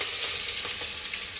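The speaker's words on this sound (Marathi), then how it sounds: "फोडणी देतोय राईससाठी" Oil and a bay leaf frying in a pot as tempering for khichdi rice, a steady loud crackling sizzle close by with light stirring textures.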